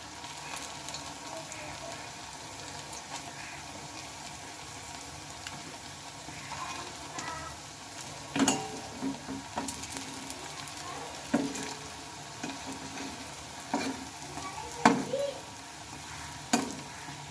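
Continuous soft sizzling of pumpkin semolina pakoras frying in a little oil, with scattered clinks and scrapes as pieces are turned over in the pan.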